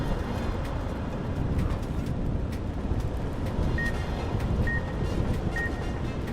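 In Fallout New Vegas, a faint, evenly spaced electronic beep sounds three times, high and thin, over a steady low background hum.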